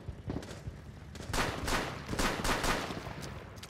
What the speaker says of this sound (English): He's shooting at me, goddamn.